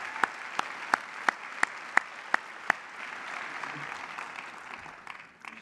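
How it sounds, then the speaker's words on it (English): Conference audience applause at an education event fills the room as a steady, moderate wash of clapping, with a series of sharp, evenly spaced claps standing out near the start. "please join me in giving yourselves and the South by EDU Advisory Board a big round of"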